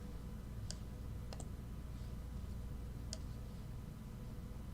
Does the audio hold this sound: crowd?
no